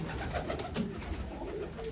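Domestic pigeons, a pair of flying breed birds, coo softly and briefly close by against a steady broadband background noise, with no talk.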